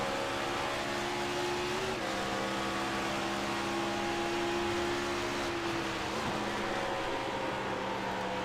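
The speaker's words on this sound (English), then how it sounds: "Dropping down to fourth gear early in the corner" A race car engine at Nashville Superspeedway drones steadily and loudly throughout, with a brief dip in pitch as it drops down to fourth gear. The tone then carries on as a sustained, slightly wavering whine.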